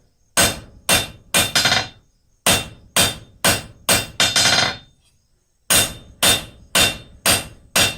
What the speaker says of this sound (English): I'm going to start slowing up or lightening up my hammer blows